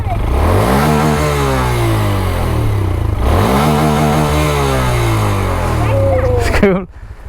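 A Honda Grom motorcycle engine revs loudly and steadily, its pitch climbing and falling in two long swells before cutting off abruptly near the end.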